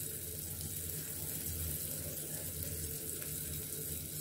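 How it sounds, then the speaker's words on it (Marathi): Small modka whitebait fry quietly in a pan, a soft, low continuous sizzle heard close with no voices. "छोटी असल्यामुळे ती पटकन भाजतात"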